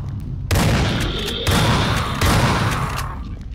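Dense, continuous bursts of video game gunfire in Dead Effect 2, with loud rapid blasts and booms, rumbling and unbroken throughout, like an intense firefight.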